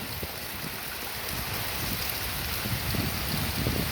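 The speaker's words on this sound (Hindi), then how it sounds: "देख देखु वर्षा केमती जोरे होची ऊपर की वर्षा" Heavy rain falls steadily in a dense, even hiss, with a low rumble underneath and no voices, during a downpour around a home.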